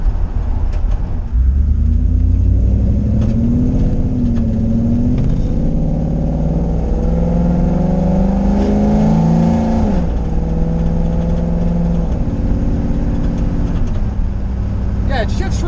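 A 1968 Ford F100 truck with a Coyote engine idles, then revs up and drives, its deep rumble rising and falling through gear changes, close and loud, with a voice talking over it.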